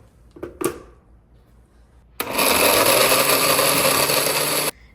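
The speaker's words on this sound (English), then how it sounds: "we're gonna blend this up" A blender whirs loudly and steadily for about two and a half seconds blending soaked almonds after a couple of brief knocks, then cuts off abruptly.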